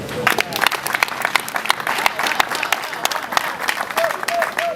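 An audience breaks into applause, a dense, sustained patter of many hands clapping at close range that fills the whole stretch without pause.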